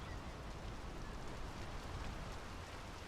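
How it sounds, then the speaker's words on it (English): Steady rain falls in the video game Draugen as a continuous, even hiss of drops washing over the scene, with no voices heard. "The rain's picking up."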